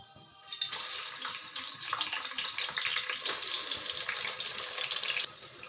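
Onions frying in hot oil with cloves and cardamom for chicken biryani, a steady loud sizzle that bursts in suddenly and hisses continuously up close, then cuts off abruptly near the end.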